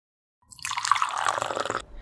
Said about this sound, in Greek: Και να γεμίσετε το μπουκάλι με νερό.